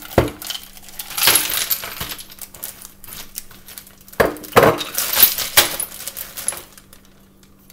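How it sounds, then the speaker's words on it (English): Ice cubes are poured into a plastic bag, giving bursts of bright clinking and rattling as the cubes tumble against each other, loud and close with no talking. "you want to put about half full of ice"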